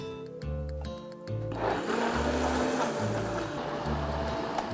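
A blender kicks on after a moment of clinking and runs loudly with cold water added, a steady whirring roar with a rhythmic low pulsing underneath.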